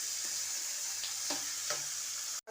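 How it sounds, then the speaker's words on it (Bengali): Spring onion and carrot fry in white oil with a continuous close sizzle, a few light scrapes of stirring poking through, before a sudden brief break near the end. "পেঁয়াজ পাতা, গাজর সব কিছু দিয়ে আমি সাদা তেল আগে ভেজে নিচ্ছি।"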